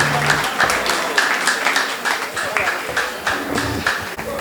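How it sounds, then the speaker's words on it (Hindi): An audience at an indoor night concert at the YMCA applauds in a standing ovation, a dense, steady patter of many clapping hands with a voice speaking over it. "आपकी तालियां और आपका स्टैंडिंग ओवेशन ही इस बात की गवाही देता है कि बहुत खूबसूरत गाया।"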